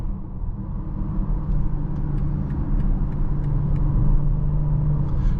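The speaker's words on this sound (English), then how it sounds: "You can hear the rev up a lot more." A 2024 BMW X6 40i running in sport mode, its engine a steady, loud low rumble heard from inside the cabin and rising slightly in strength through the middle, with no talking.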